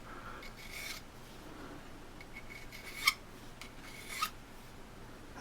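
Quiet, close rasping strokes of a deburring tool scraping the edges of a small metal part, repeated in short bursts with a couple of sharper metallic clicks.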